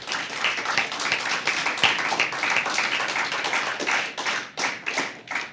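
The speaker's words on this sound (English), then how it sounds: "we, again, say a round of applause to both teams" An audience claps for two debate teams, a room of hands with individual claps standing out sharply, fairly close and steady throughout.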